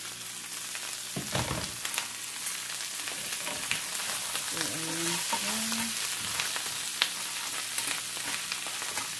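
Crab sizzling and frying in a hot pan for a ginataang alimasag dish, a steady dense crackle with stirring scrapes and a brief clatter, and no talk.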